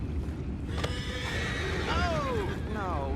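Horses neigh in Red Dead Redemption II over a low rumble of hooves and ambient noise. Two sharp, wavering whinnies cut through close by, one near the middle and one near the end.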